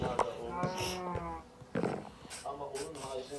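A Minecraft cow lets out a few short moos, spaced apart and moderately close, mixed with a player speaking over the game.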